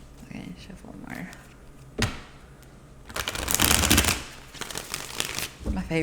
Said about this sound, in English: Okay, shuffle more.